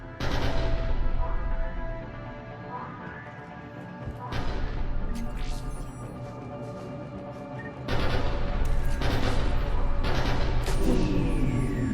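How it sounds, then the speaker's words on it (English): Heavy weapon fire and explosions in the Mass Effect 3 video game as a cannon is tested, loud booming bursts with crashing impacts, growing denser and louder toward the end. "Then I think it's time to test this cannon."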